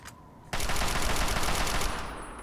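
Sustained automatic gunfire in the video game Fallout 3, a loud continuous burst starting abruptly after a faint opening and running to the end with no talk.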